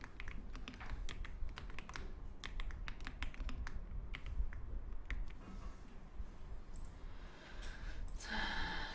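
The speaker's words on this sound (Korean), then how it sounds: "키보드에서 컨트롤 키를 누른 상태에서 숫자 1을 눌러줄 건데요" Computer keyboard keys pressed during a spreadsheet formatting lesson, including the Ctrl plus 1 shortcut: a steady run of light, close typing clicks, with no talk over them.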